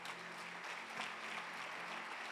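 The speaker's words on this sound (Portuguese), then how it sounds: "Aplauda a Jesus por isso." A church congregation applauds Jesus during a Portuguese-language Pentecostal service, with steady, dense clapping filling the room throughout.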